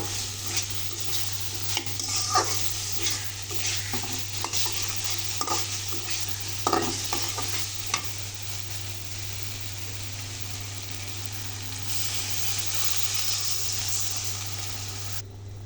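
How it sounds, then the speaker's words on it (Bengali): Spiced potatoes fried in a pan for a breakfast curry get stirred with scraping utensil clicks and a steady sizzle, with a constant low hum underneath and a brighter hiss rising near the end. "এখন আমি পরিমাণ মতো জল দিয়ে দেব।"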